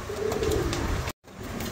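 A pair of large tiger-coloured Mundian pigeons coo close by in a loft, a low steady cooing that runs continuously, broken once by a brief silent gap.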